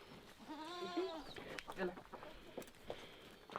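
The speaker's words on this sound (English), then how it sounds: "And all three goats are behind you." Goats bleating close by in a barn or farm setting, a few wavering calls in the first two seconds mixed with a voice speaking to the animals.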